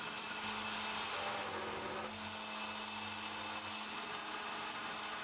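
A CNC milling cutter runs through 0.75mm steel plate with water coolant, giving a steady, loud, even whirring grind with a low motor hum beneath and no pauses.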